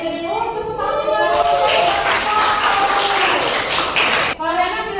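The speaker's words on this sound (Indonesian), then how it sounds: "Oh tepuk tangan." A classroom full of people breaks into loud, dense hand clapping for a few seconds, rising abruptly and stopping just as suddenly, with a voice speaking before and after it.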